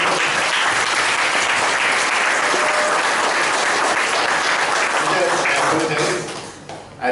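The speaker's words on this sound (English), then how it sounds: "Give it a big round of applause for Vijay Kalkundrika" An audience at a Toastmasters club meeting breaks into dense, sustained applause, many hands clapping loudly together, before the applause fades out near the end.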